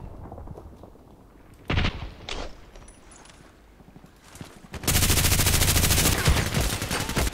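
RPKT machine gun in the shooter game Contract Wars fires a short burst, then a second brief burst, then a long sustained rattle of rapid automatic fire, loud and close.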